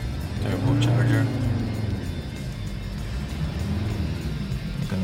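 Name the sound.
Alfa Romeo 159 2.4 engine running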